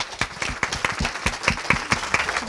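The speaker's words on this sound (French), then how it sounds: "Je pense qu'on peut applaudir nos intervenants." Audience applause for speakers at a French talk on caring for particularly vulnerable people, with scattered, uneven claps in a fairly small room and a few voices mixed in.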